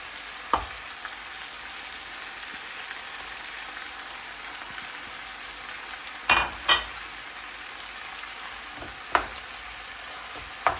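Onions fry in a pot with a soft, even sizzle, joined by a few sharp pops and spatters near the middle and end.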